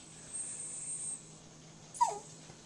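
A curious dog whimpers in a brief, soft, high whine near the end, with faint background hiss and no talking.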